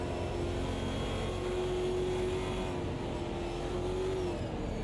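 Race car engine in the Automobilista 2 racing game, a steady sustained engine tone holding a near-constant pitch with a faint rise and dip, with no talk over it.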